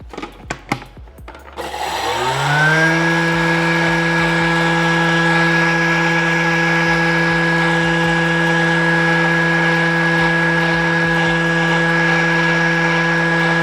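A Thermomix TM7 kitchen machine grinds sugar, starting with a few clicks and then spinning up into a loud, steady high-pitched motor whine that holds evenly for over ten seconds.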